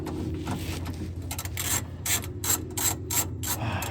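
Ratchet wrench turning a 14 mm bolt while replacing rear shocks on a 2001–2002 Toyota RAV4, a series of short rapid clicking bursts that grow more regular, close and clear over a low background hum.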